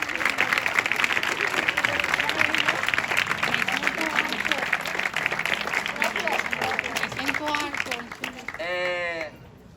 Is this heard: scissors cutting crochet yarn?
no